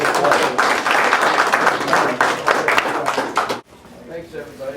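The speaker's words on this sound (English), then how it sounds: "let's give him applause for driving all this way" Audience applause at a catfishing seminar, a dense burst of clapping filling the room for several seconds before cutting off, followed by a lone voice beginning to speak.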